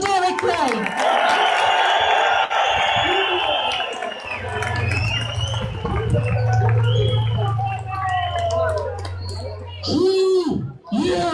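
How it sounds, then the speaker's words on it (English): A protest crowd in Cork cheers and claps for Derek Bly in a noisy burst of broadband applause and shouts. It fades into scattered voices with a low hum beneath, and a close voice speaks at the end. "So can I get a big round of applause, please, for Derek Bly?"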